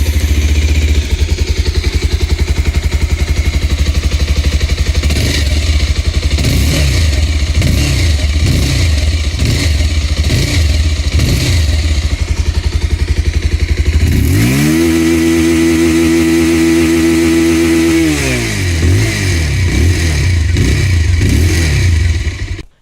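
A 2026 Bajaj Pulsar 220F with a matte-finish exhaust revs up close in a series of quick throttle blips, then holds one longer high rev before dropping back to a loud, rumbling idle.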